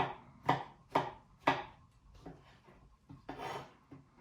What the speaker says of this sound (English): Let's finish chopping our mushrooms.